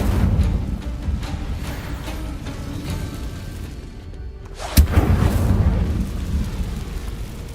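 Incendio fire spell cast in Hogwarts Legacy, a roaring, rumbling burst of flame with a sharp crack near the middle, sustained and heavy over ambient game noise.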